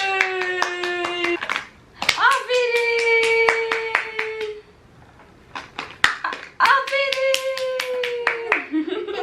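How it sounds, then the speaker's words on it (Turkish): Hands clap in quick, crisp bursts close by at home with a toddler, while an adult's voice speaks over the clapping and brief pauses fall between the bursts. "Alkış."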